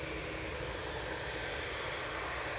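A Boeing 787-8 Dreamliner departing Manchester Airport, its jet engines giving a continuous loud, broad roar that holds steady and unbroken, with no talking.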